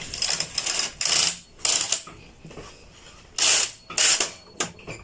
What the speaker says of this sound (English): So let me move the first row of the lace carriage, and then you see what happens.